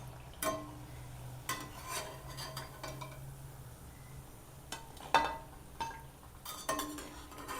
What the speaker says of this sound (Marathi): या साईडनी पण चांगली अशी फ्राय करून घेऊया आपण.